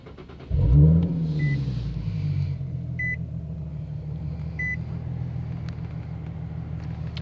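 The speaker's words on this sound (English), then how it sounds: "Let me start the car here" A 2015 Nissan 370Z engine cranks and catches with a loud, low roar, then settles into a steady idle rumble, while short electronic chimes beep a few times in the cabin.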